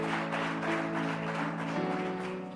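A church congregation applauds together in a dense, steady patter of many hands, with sustained musical tones held underneath throughout.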